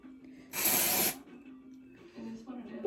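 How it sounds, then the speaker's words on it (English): A single short burst of dry shampoo sprays into hair, a loud hiss lasting about half a second, with faint voice murmurs around it. "So I'm just gonna spray some dry shampoo in my hair because my hair is a little bit greasy"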